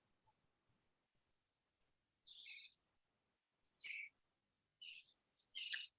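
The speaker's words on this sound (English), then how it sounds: "Love the birds." Birds call outside in four short, high, chirping bursts spaced a couple of seconds apart, faint and distant against near silence, with a few soft clicks between them.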